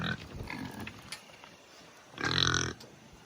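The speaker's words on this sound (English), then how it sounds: "Oh, it's a pig." A pig grunts and snorts faintly at close range, with one louder, longer squealing grunt near the end.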